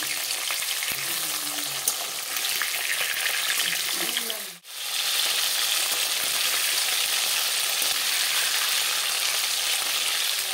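Fish pieces frying in hot oil give a loud, dense, continuous sizzle up close, briefly cut off for a moment midway before resuming, with faint voices murmuring underneath.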